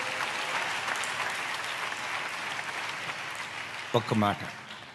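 A church congregation claps in sustained, dense applause for about four seconds, then a voice speaks briefly as the clapping stops.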